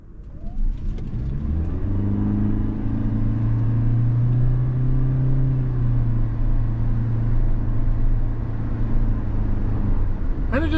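A 2025 Toyota Prius Nightshade AWD pulls away from a stop with a smooth, steady engine drone that rises gently in pitch and holds, with faint road noise and a few soft clicks at the end.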